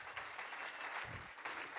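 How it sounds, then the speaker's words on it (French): Applause from an evening award-show audience in France, a dense, steady wash of clapping that holds at an even level for about two seconds with no one speaking over it. "On a le droit d'applaudir les femmes ce soir"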